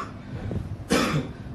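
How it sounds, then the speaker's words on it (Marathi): A person with a persistent cough, in a short film about tuberculosis, gives a single harsh cough against a steady background hiss. "तरी पण खूप खोकला येतोय"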